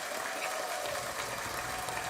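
A small group clapping together, a dense, steady patter of applause held at an even level throughout.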